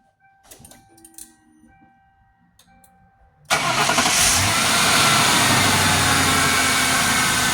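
A Lincoln Town Car engine, just refilled after an oil change, cranks and catches partway through, then settles into a loud, steady running rumble after a quiet start with faint shuffling.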